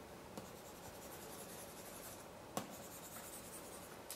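Stylus drawing across the screen of a Modbook tablet computer, a faint, steady scratchy rubbing with a couple of soft taps, quiet and close, with no talking.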